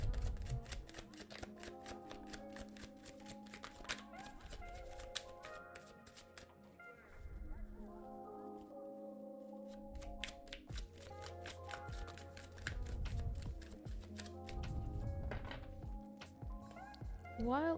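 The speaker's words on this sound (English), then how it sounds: "While I'm shuffling" Tarot cards are riffled and shuffled in a long, continuous run of crisp, rapid flutters and taps close to the microphone, with brief pauses between bursts.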